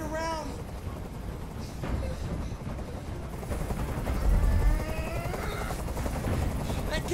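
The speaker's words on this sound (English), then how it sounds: "I can't stand that noise anymore. Tell that helicopter to get out of here." A helicopter in the video game Detroit: Become Human makes a steady, loud rotor rumble throughout, with voice-like tones and other game sounds layered over it.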